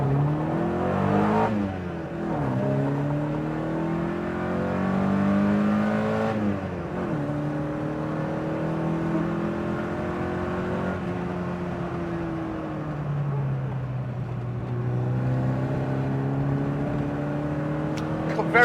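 A BMW 2002Tii engine pulls through the gears in a steady, close climb, its revs rising and then dropping back at each shift, with a faint voice over it at the start.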